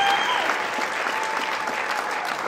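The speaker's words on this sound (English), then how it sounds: "Big round of applause for Mindy." Steady applause from an audience fills the whole stretch, even and sustained, celebrating a girl named Mindy on stage.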